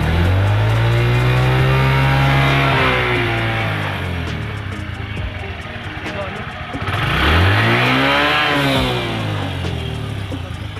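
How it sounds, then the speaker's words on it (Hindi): A 2013 first-generation Suzuki Hayate 112cc motorcycle revs twice, its exhaust rising in pitch, falling back and then climbing again, loud and close, over a steady idle. "मैं आप लोगों को इसका बाइक का एग्जॉस्ट का साउंड भी सुना देता हूँ"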